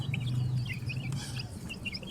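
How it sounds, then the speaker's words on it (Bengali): Chickens in a rooftop garden give steady, close clucking calls throughout, with a low continuous hum beneath and some higher chirps scattered over it. "আজকের ভিডিওটি হলো ছাদ বাগানে মুরগি পালন নিয়ে"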